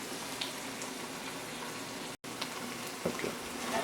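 Honey fungus mushrooms fry in a pan with a steady, close crackling sizzle that holds throughout, broken only by a split-second dropout near the middle.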